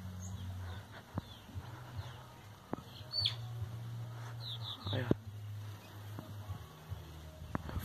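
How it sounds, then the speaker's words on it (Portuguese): Faint chirps and tweets from a canary and other small birds at a homemade feeder, scattered across several seconds over a steady low hum and outdoor background noise. "Tem o canário lá, ó."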